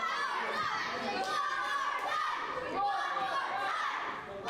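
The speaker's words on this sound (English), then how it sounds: "Crowd chanting for one more time." A wrestling crowd chants in unison at an arena during a TLC ladder match, with many voices rising and falling in a steady, rhythmic pattern that fills the space throughout.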